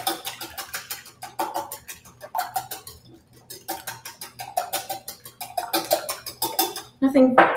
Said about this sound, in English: All right, three eggs. I'm going to give that a head start whisk.